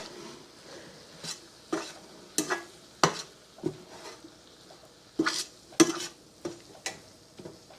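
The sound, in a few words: stirring flour into sausage grease for gravy in pan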